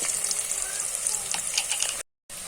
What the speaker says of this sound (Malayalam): അപ്പോൾ നോക്കി നന്നായിട്ട് ഇളക്കി മൂപ്പിച്ചു കൊടുക്കാം.